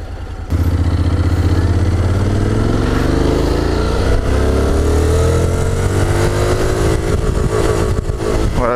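A Honda X-ADV scooter engine revs hard and climbs steadily toward its rev limiter around 7000 rpm, a loud, close, continuous rising whine with no talking.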